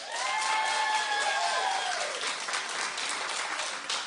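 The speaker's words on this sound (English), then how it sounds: "now clap if you'd watch her reality show. Clap." A studio audience on a daytime talk show breaks into loud, sustained clapping with some cheering, a thick wall of applause that holds steady for about four seconds.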